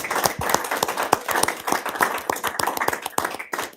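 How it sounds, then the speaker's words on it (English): Applause for administrators and teachers at a youth city council swearing-in ceremony, a small audience clapping close and unevenly, with distinct individual hand claps rather than a dense roar. "can we please give them a round of applause?"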